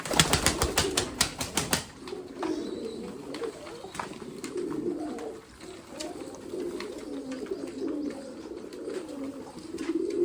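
Pigeons coo steadily in a breeding cage, a soft, low, continuous murmur of several birds close by, opened by a brief flutter of wings.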